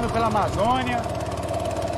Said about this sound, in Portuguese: seu motor de rabeta.